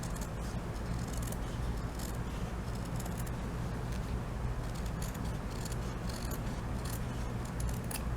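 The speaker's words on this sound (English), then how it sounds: "I'm going to cut this out." Scissors snip through felt for a small sewing craft, producing steady close crisp cutting and rustling over constant background noise, with no talking.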